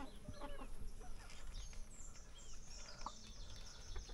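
Native chickens cluck and call at a distance outdoors in the Catanduanes wilderness, with faint bird chatter over steady background noise.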